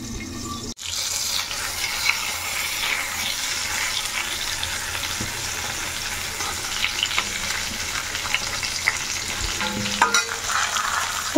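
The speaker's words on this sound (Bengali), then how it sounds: "তো পটল ভাজা হয়ে গেছে মোটামুটি" Sliced pointed gourd (potol) frying in a pan in a home kitchen, a continuous close sizzle and crackle with a sharp break near the start and a few light scrapes and clinks, no voices.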